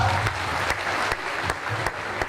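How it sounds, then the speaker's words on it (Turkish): Applause breaks out at a graduation ceremony for international students, a steady wash of clapping punctuated by a few sharp, regular claps, fairly faint and without talk. "Kendinizi alkışlayın arkadaşlar."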